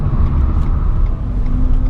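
A Renault Zoe electric car driving at full power on the Nürburgring, heard from inside the cabin as a loud, steady rumble of road and wind noise with a faint electric motor whine.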